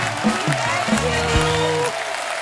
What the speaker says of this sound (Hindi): जोरदार तालियां हो जाए हमारी टीवी की क्वींस के लिए।